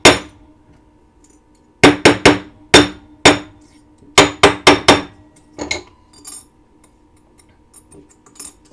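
A hammer strikes sheet metal laid over wire. About a dozen close, sharp, ringing blows land in quick clusters with short pauses, then give way to a few faint taps in an otherwise quiet room.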